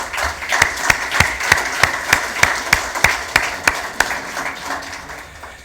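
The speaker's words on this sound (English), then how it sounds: "I believe that you all deserve an applause" Applause at an annual general meeting, a small group clapping in a fairly rhythmic, steady pattern of distinct claps, moderately loud and continuing throughout.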